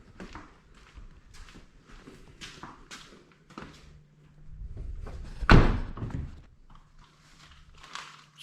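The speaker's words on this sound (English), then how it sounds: "close the other door." The door of a GTR closes with one solid slam midway, following soft rustling and handling noises nearby.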